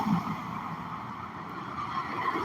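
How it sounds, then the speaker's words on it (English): Steady car traffic in Denver rumbles and hisses in a constant wash of road noise with no single vehicle standing out. "Traffic in Denver."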